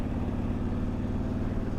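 A big, lazy Harley-Davidson motorcycle engine pulls along a twisty California road with a steady, low, throbbing drone, fairly close and alone.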